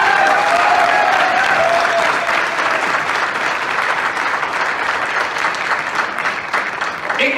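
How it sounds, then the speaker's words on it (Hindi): Sustained audience applause at a motivational business gathering, loud and dense throughout, easing slightly after the first couple of seconds but continuing steadily to the end. "एक बार जोरदार तालियां चाहिए।"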